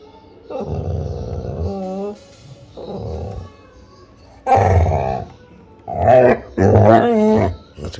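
A Himalayan husky growls and grumbles in several drawn-out, rising vocal bursts with pauses between, close and loud, the later ones more intense and yowling.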